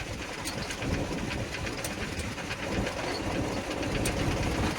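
A 2010 Mahindra 295 tractor runs with its hydraulics being worked, giving a continuous close mechanical drone with faint rhythmic clicking and rattling throughout, and no voices.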